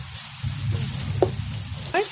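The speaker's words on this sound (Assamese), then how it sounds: "আদা নহৰু আৰু পিঁয়াজখিনি মই অকণমান সময় ভাজি ল'ম ভালদৰে" Ginger, garlic and onion fry in a pan while cooking chicken curry, a steady, moderate sizzle with a few brief scraping or stirring touches near the end, heard alone.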